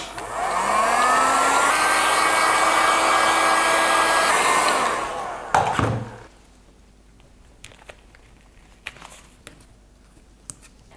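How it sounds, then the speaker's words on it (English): A heat gun blows hot air over a handmade shoe mock-up, a loud steady whooshing roar that spools up, runs for about five seconds, then cuts off with a thunk, followed by faint clicks and handling sounds. "So I'm going to really roughly just put these straight over the top using my heat gun."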